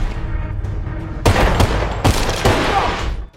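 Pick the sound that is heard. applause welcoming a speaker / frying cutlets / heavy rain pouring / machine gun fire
machine gun fire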